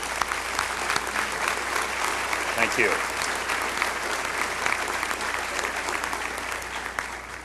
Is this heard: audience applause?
yes